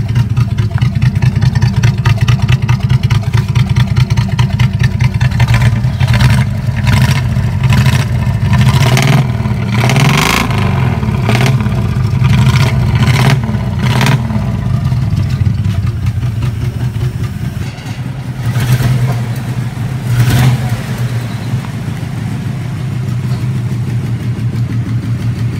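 An old rusty Holden car engine idles with a steady rumble, then revs repeatedly in sharp bursts before settling back to idle, close and loud, with no voices.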